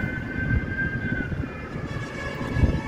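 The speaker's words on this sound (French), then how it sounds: "Je m'excuse pour les sirènes, mais c'est omniprésent." Emergency vehicle sirens wailing through a port city, a sustained distant tone with a slow pitch sweep over constant street rumble and traffic noise.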